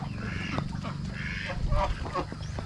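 Farm ducks and geese kept with pigs and broilers call in overlapping honks and quacks through a steady bed of low background noise, with a few louder calls standing out.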